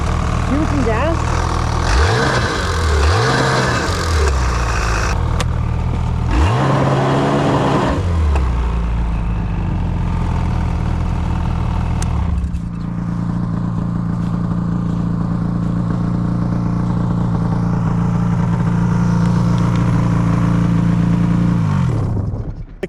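A Ski-Doo XRS snowmobile engine with a weak, failing clutch, loud and close, revving in surges then settling into a rough, droning idle as it struggles to move.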